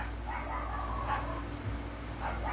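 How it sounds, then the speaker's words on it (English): Dogs barking indoors in a house, a few muffled yips and barks at moderate distance over a quiet room background. "Excuse my dogs"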